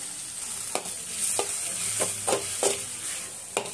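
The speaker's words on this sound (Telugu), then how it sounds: "దానికి సరిపడినంత ఉప్పు, చిటికెడు పసుపు అండి వేసుకొని కలుపుకోవాలి" Spoon stirring salt and a pinch of turmeric into sizzling frying food, a string of scraping strokes at an uneven rhythm over a steady hiss of hot oil, close by with no talking.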